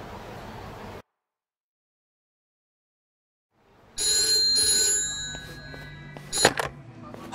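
A telephone rings in the video game Yakuza: Like a Dragon. After a second of quiet and a stretch of silence, a bright electronic ring comes in, followed by shorter ringing bursts and clicks.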